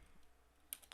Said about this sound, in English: we're going to start by typing function